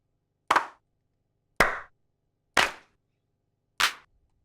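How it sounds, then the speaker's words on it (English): Four sharp, dry claps from the Killa Kits Battery 3 drum kit play one at a time with short gaps, each loud and quickly decaying, with nothing else around them. "Now I'll try some of the claps"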